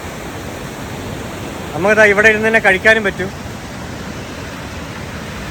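A swollen river after rain rushes past a riverside restaurant near Kullu, a steady, loud broadband roar. Someone talks over it for a couple of seconds in the middle.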